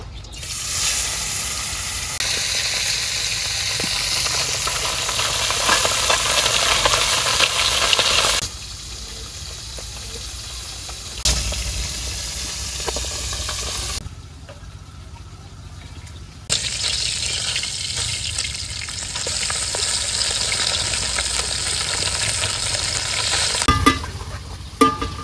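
Crushed raw fish fries in oil in a wok in a village kitchen, giving a loud, continuous sizzle with stirring scrapes. The sound drops and returns in several sections, at times fading to a quiet hiss.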